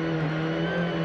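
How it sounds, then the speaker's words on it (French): Rally car sliding sideways in a drift on a steep, slippery uphill climb road, its engine holding a loud, steady high-revving drone throughout this brief moment with no talking. "Tu veux qu'on fasse un petit drift?"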